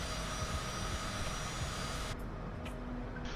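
Steady jet engine roar of a Cessna Citation in a flight simulator game, a constant broadband whine that holds evenly throughout with a slight drop in the upper hiss near the end.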